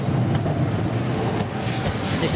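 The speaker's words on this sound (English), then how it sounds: "An ALE 501 3-car EMU arrives at the Palermo-Catania train." ALE 501 three-car electric multiple unit pulling into a station on a Palermo-Catania service in Sicily, a loud steady low rumble and hum of the train moving close by, with no talk.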